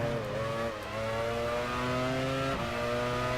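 Formula 1 race car engines in F1 Challenge 99-02 at Barcelona, a steady high-pitched roar from several cars with rising and falling revs as they shift gears. No one speaks.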